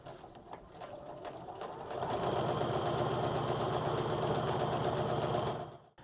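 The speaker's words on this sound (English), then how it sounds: "Now, as I'm sewing this" Sewing machine stitching quilt fabric; a few soft taps at first, then the motor runs up to a steady, fast, even whir of needle strokes for several seconds before stopping abruptly, close by.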